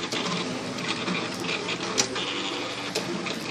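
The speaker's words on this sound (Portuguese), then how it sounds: "Já está cortando o vinil." A Silhouette Cameo cutting machine slicing adhesive vinyl, a steady whirring, clicking mechanical run with small ticks and a couple of sharp clacks, close and continuous.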